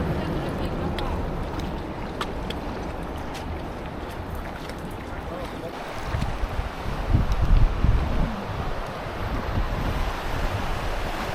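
A strong river current in Switzerland rushes around a small boat, a continuous churning wash with wind buffeting the microphone and a louder surge midway.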